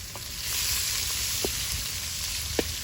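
Sausage fat sizzling in a hot bogrács kettle, a steady, close hiss with a couple of faint ticks and pops.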